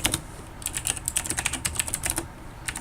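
A command is typed on a computer keyboard while setting up an exploit against a Windows XP machine: a steady run of close, rapid key clicks with brief pauses, no voice.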